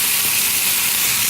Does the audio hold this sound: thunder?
no